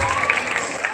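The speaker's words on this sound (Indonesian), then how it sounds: "Lanjutnya, tepuk tangan dulu." Students and guests at an Islamic boarding school graduation ceremony break into a short, loud burst of applause and cheering, with crowd noise mixed in.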